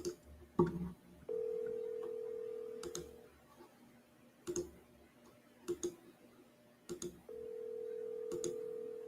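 An outgoing phone call being placed: a few scattered clicks and taps, then steady ringback tones, each repeated, heard close and fairly quiet with no talk.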